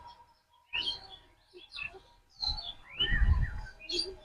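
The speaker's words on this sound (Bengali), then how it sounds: "কত পাখি বাসা এই গাছের উপরে।" Birds call from trees in a Bengal village among coconut palms, short chirps and tweets coming in scattered bursts at moderate distance, with a brief murmur of voice beneath one burst.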